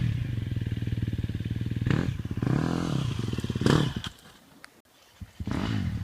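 A 2014 KTM 250 XCF dirt bike rides rough, gnarly trails, its engine buzzing loudly and steadily, then revving in surges before dropping away briefly and climbing back, with clattering and scraping over the terrain.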